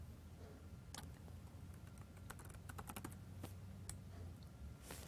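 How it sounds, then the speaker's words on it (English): Someone types a password on a computer keyboard, producing a quiet, irregular run of close key clicks over a steady background hum. "I will take this off screen to type in my password"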